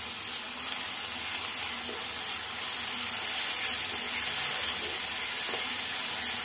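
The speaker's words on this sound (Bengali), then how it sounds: "আদা রসুন বাটাটা দিয়ে আবারও পেঁয়াজের সাথে খুব ভালো করে ভেজে নেব" Onions frying with ginger-garlic paste in a pan give off a steady, close hiss of sizzling that runs unbroken and fairly even, with faint scraping stirs now and then.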